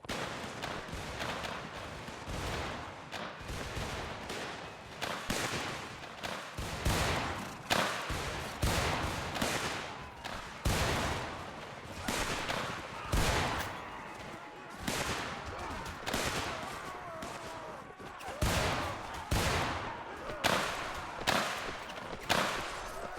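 Musket volleys crack out in ragged bursts through a Mount & Blade Warband American Civil War battle, repeated sharp reports spread across the scene at varying distances, with occasional voices under the firing.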